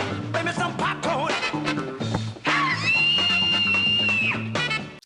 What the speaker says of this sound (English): I'm telling you, that scream,